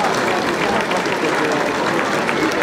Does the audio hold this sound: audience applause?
yes